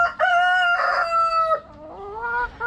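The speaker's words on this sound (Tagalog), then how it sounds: "Ayan na yung mga ayan na yung mga tandang niya." Rhode Island Red roosters crow near at hand, one long loud call followed by another, clear and ringing against a quiet pen, with no voices.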